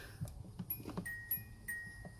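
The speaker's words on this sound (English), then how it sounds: "And you can hear the chime." A door chime in a 1986 Nissan D21 pickup sounds a few faint, thin high tones at irregular intervals over low background rumble and handling noise.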